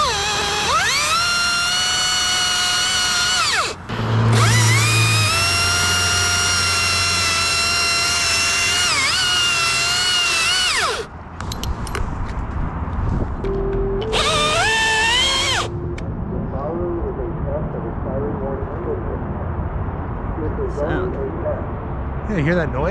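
Chainsaw making a face cut in a fire-burned tree, the engine screaming loud and close in long sustained bursts that rise and fall with the throttle, then dropping to a rough idle while people talk.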